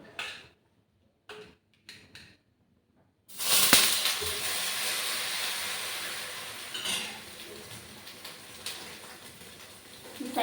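Batter for chatti kalthappam hits a hot, oil-rubbed clay pot, bursting into a loud, close, steady sizzling hiss after a few light clinks, then gently easing off while still crackling.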